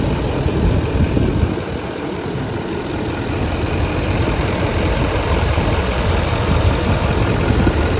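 A Chevy 3500HD pickup's 6.6-liter Duramax diesel idles steadily up close with the hood open, a continuous low rumble with a faint clatter that holds even throughout.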